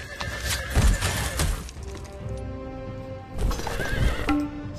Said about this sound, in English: Silly, silly horsey.